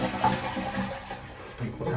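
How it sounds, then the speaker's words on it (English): A household toilet with a failing fill valve flushes, giving a short, moderately loud rush and gurgle of draining water. "you're gonna flush the toilet."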